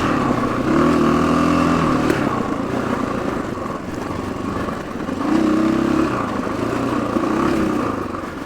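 A Husqvarna FE501 dirt bike engine revs in two loud swells, climbing and falling in pitch, with a rough throaty drone between them and no talking.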